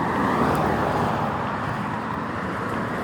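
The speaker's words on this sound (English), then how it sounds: "Look at the flow of cars that's coming now." Steady road traffic with cars passing nearby, a continuous broadband roar with no breaks and no talk.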